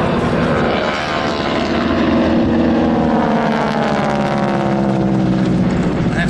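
A Fox Wolf aircraft taxis at the Classic Fighters Omaka 2023 airshow, a steady droning propeller engine hum with shifting tones, heard close and loud while someone talks over it.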